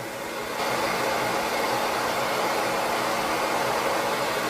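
A hair dryer on the warm setting starts up and blows with a steady, loud rushing whoosh that continues unchanged.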